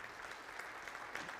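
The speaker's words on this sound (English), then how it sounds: "Let's give her a round of applause." A small audience at a recognition event for an Omaha Beach veteran claps steadily, a faint continuous patter of applause.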